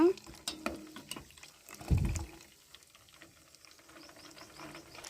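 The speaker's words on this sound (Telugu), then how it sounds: "చిన్నగా స్లో మంట మీద తిప్పుకుంటూ తిప్పుకుంటూ బాగా అరబెట్టుకోవాలి" Milk cream is stirred on a slow flame as it reduces, with soft scraping and gentle bubbling in the pan, faint and intermittent, with a person talking over it.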